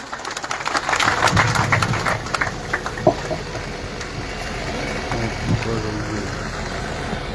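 Crowd at a municipal land-lease distribution event applauding to welcome MLA Vikram Singh Jakhar, a dense wash of clapping that swells early, then thins under steady background noise.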